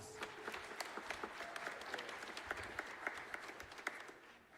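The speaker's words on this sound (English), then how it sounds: "Give them a round of applause." An audience applauds with scattered, brisk claps at moderate volume, sustained for several seconds without a break.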